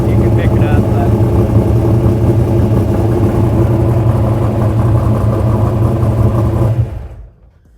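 Big block V8 in a luxury Ford Ranger pre-runner truck, running loud and close with a deep, steady rumble before cutting off abruptly near the end.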